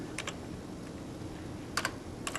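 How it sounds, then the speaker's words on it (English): Keys clacking on a computer keyboard while a short message is typed into a chat box, heard as a few brief bursts of light clicks over a steady background hum. "I'm going to type in a little chat box"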